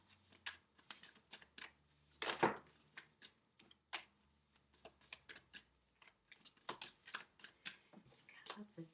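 Tarot cards being shuffled by hand, a run of quick riffling flicks and slaps at close range, with a louder burst partway through and brief soft talk in between.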